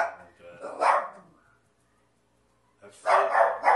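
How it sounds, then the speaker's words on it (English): A dog named by its owner barks in two short bursts of loud, close woofs separated by a quiet gap, with no talk over them. "the dog's name, by the way, is Phil"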